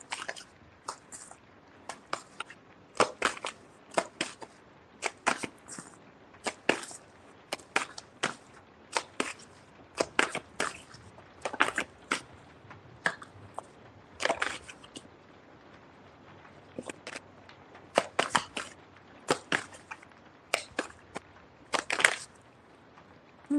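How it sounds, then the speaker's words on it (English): Tarot cards being shuffled by hand give soft, dry riffling bursts at irregular intervals, quiet and close, with short pauses between shuffles. "I feel like I was shuffling for a little minute."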